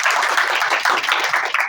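A brief burst of applause rises from an audience at a school Children's Day celebration, many hands clapping densely and fairly loudly for under two seconds.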